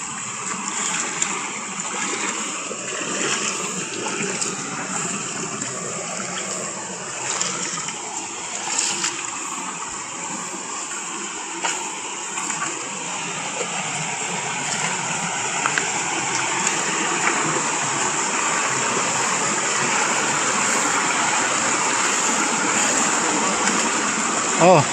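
A river flows over large rocks, a continuous splashing rush close by that grows slightly louder over time, with people talking intermittently over it.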